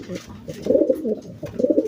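Pigeons coo close by, a low throaty warble repeating in soft bursts.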